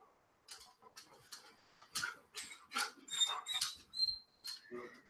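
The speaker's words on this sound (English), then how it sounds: "excuse my dogs" Several dogs barking in sharp bursts mixed with high whimpers and whines, a quick irregular run of yelps close by indoors with no talk.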